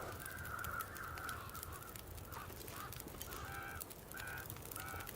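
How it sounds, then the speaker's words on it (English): Crows caw repeatedly in The Long Dark, a survival video game, harsh calls in bursts of several over a steady wind-like ambient bed. "Huh, you freaking crows."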